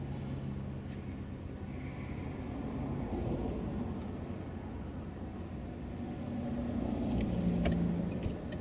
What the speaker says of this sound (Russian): Все-таки мотор слабенький, но он экономичный довольно-таки живой.